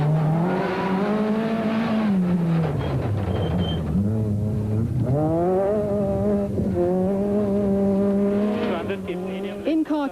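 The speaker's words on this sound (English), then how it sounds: "as he guides the 200-plus horsepower left-hand drive Escort RS 2000 down the narrow tracks" A 200-plus horsepower left-hand-drive Ford Escort RS 2000 rally car labors loudly along narrow forest tracks, its engine note rising and falling through gear changes, with tyre noise and commentary over the top throughout.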